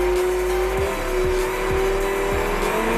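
Drag racing cars staged at the start line, engines holding a loud steady drone punctuated by repeated sharp revving bursts and tire chirps, close and continuous with no talk.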